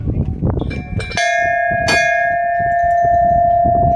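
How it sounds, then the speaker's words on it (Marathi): Metal bell struck at Shingi peak on a trek, a loud clear clang ringing out twice and sustaining into a long bright hum, with rustling and breath noise around it. "घंटा कोणी वाजवला नाही अजून ते घंटा वाजून बघतो"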